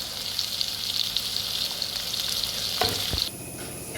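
Salted ingredients sauté briskly in a pan for Kerala fish curry, a dense, bright sizzle with a couple of clanks from a spoon against the pan near the end, and no voices.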